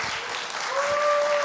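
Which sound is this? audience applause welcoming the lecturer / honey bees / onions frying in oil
audience applause welcoming the lecturer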